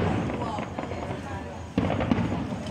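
New Year fireworks crackle and thump over Miami Beach, a dense continuous rumble of bursts with a sharper pop near the end, while people talk nearby.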